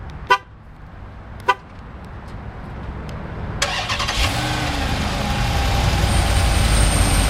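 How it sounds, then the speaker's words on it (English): A 2012 Dodge Charger SRT-8 is remote started: two short horn chirps sound first, then the engine cranks and fires into a rising, deep idle that holds loud and steady to the end. "hit the specified remote start button twice to start"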